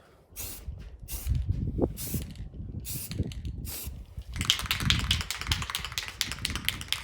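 Aerosol spray paint applied to car wheel rims outdoors in light wind, short hissing bursts in several separate passes followed by a longer continuous spray, with tapping and handling noises between.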